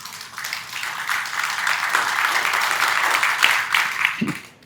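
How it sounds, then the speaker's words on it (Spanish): Audience applause fills a forum on road infrastructure and transport, a full burst of clapping that swells, holds, then tapers off near the end with a brief bump of noise. "Unas fuertes palmas, por favor."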